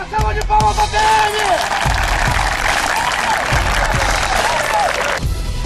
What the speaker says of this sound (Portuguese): Uma salva de palmas pra PM!